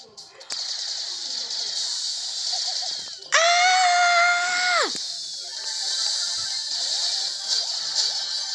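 Someone lets out a strange, drawn-out, high-pitched scream lasting over a second, loud and close, over steady video game sounds from Brawl Stars.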